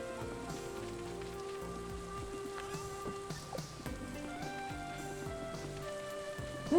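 Steady rain from the video game Stardew Valley patters continuously on surfaces, layered under a bright, busy game soundtrack.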